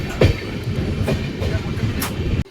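A passenger train pulls out of Damanjodi station on the Bhubaneswar to Koraput line, its steady rumble and rattling wagons carrying on throughout with a few sharp clanks, heard from inside a sleeper coach.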